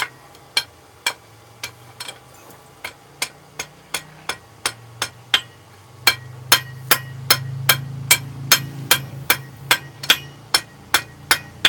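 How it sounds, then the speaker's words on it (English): Sharp, ringing hammer blows on hot steel while forging rock horns ring out in a steady rhythm of evenly spaced strikes, close and loud, with a low rumble underneath that grows in the second half. "Just tilted my hammer towards me."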